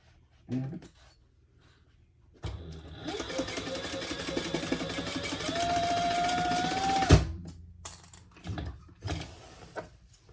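A sewing machine stitches a pouch seam in one sustained run of about five seconds, a close, rapid mechanical whirring and clatter that rises slightly in pitch, with small handling clicks and taps before and after.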